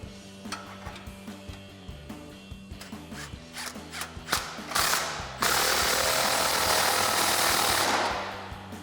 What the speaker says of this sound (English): take a 15mm socket to tighten them down